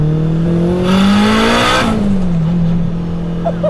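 A turbocharged K-swapped Honda Integra Type R DC2 driven hard on hill roads, its engine note climbing steadily through the revs and then dropping back on a shift, loud and close with a brief surge of intake rush.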